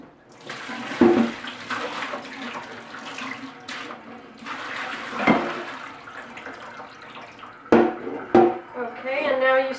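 Tap water runs steadily over broken pieces of salted codfish being rinsed in a kitchen sink, with a few sharper splashes and clatters as the fish is handled, close and continuous.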